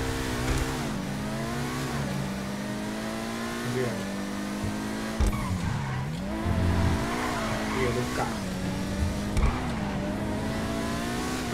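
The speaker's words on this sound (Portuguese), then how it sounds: "Um carro apareceu à minha frente do nada." A car engine in the video game GTA 5 revs loudly, its pitch rising and falling repeatedly, with brief tire squeals and a short spoken word over it.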